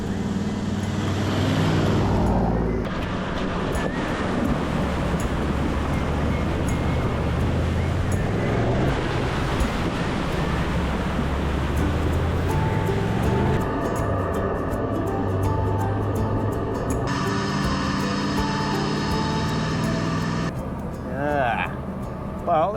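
A car travels along the rough Bloomfield Track, its engine and road rumble steady and loud throughout, with shifts in tone as it changes speed and people talking over the drive.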